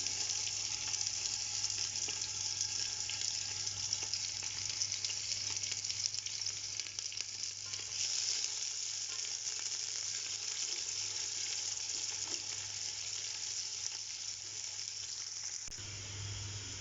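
Two medium sliced onions, about 150-200 grams, fry steadily in hot oil with a continuous close sizzle, turning light golden brown for keema biryani; no voices.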